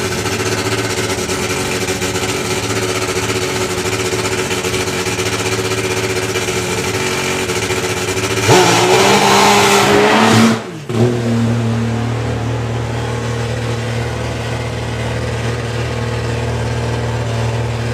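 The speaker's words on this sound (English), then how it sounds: "that bike sounds angry. What a machine. PBR Rocket 3-cylinder machine of Al Smith" Al Smith's PBR Rocket three-cylinder drag racing motorcycle at Santa Pod Raceway revs loudly for a couple of seconds over steady strip noise, then settles into a lower, even engine drone.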